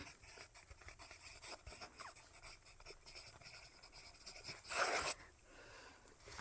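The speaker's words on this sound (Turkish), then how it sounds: "Kızım yazıyorum işte." A pencil or pen scratches on paper in quiet, irregular strokes, with a louder rasping burst midway like erasing or heavy rubbing, all close and faint with no voices.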